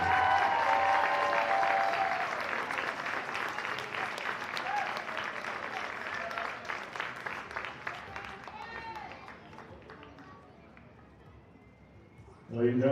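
A large crowd at a high school Division 4 championship game applauds loudly and steadily, the clapping gradually thinning out and fading toward the end.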